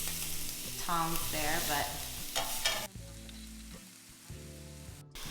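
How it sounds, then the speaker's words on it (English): Pork tenderloin searing in a hot pan, a dense close sizzle under a voice briefly speaking, with tonal harmonic sounds early on, then a quieter sizzle with utensil clatter. "once you've seared all 4 sides, we're gonna transfer it to an oven-safe dish"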